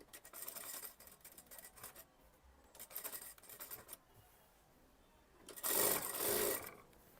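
A sewing machine stitches the main fabric of an Anarkali kurti in three quiet bursts of whirring, with the last burst noticeably louder and closer, separated by soft handling of the cloth.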